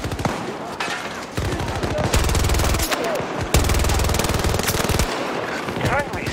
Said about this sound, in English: Where are those shots coming from?